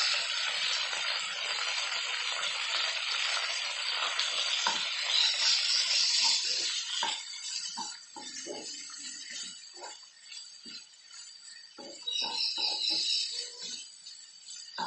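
Finely chopped onions hit a hot pan for paneer butter masala, giving a bright, steady sizzle at first that settles into quieter frying broken by scattered clinks of stirring.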